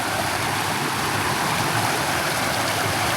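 Small stream flowing where it joins a larger river beside a garden plot, a steady, loud broadband rush of water running continuously without any voices.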